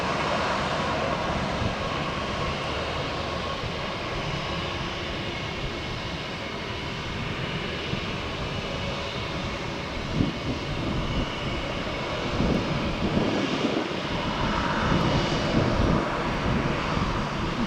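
A Southwest airliner takes off from runway 1 right at Tampa, its jet engines producing a loud, sustained roaring rumble that swells in the latter part as the aircraft powers down the runway.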